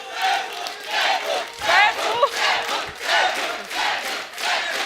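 A TV comedy studio audience cheers and applauds loudly as superstar Saif Ali Khan comes on. The crowd roars and whoops in rolling swells over continuous clapping.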